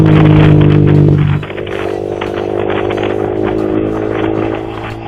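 A Yamaha R15 V3 with an R9 Misano aftermarket exhaust is revved hard, a loud, buzzy, sustained engine howl up close that drops abruptly and settles into a rougher, lower, rattly running note.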